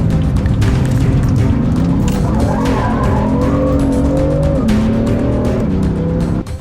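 A BMW M3 power slides with sustained, wavering tire squeal over a loud engine roar, close and continuous for several seconds with no talking.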